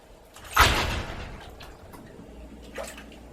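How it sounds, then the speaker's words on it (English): A door swings open with a thud and rattle, followed a couple of seconds later by a softer knock as it closes again. "When you hear that, that's the back door."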